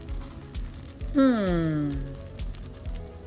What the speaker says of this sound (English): I'm gonna put our little gems right on there. They should sizzle right away.